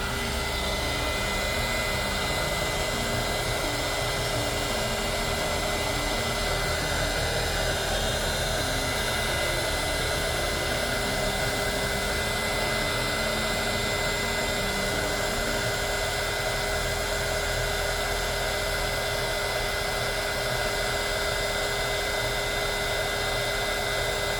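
Hot air blows steadily onto a GoPro Hero ND filter: a loud, unbroken rushing roar like a hair dryer that runs close and even from start to end, with no voices.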